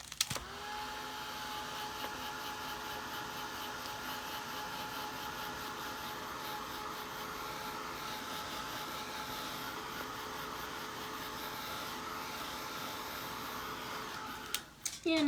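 A hand-held dryer blows steadily on fabric to set freshly applied paint, a constant close whirring hiss that runs nearly unbroken before cutting off at the end.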